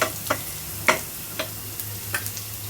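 Fish and onions fry in a pan, giving a faint, steady sizzle broken by a few sharp crackling pops, with no voices.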